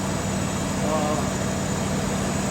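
A Ford F-100 pickup truck's engine idles after carburetor work, a steady low hum running evenly through the clip beneath a constant background hiss.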